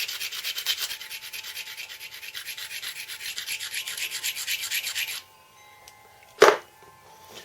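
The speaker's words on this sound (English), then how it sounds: "by giving that little grinding, that dust is going to help your pressure flaker get a better grip" A stone slab edge for knapping is ground with repeated rasping strokes, a close, rhythmic scraping that runs for about five seconds, then stops before a single sharp knock.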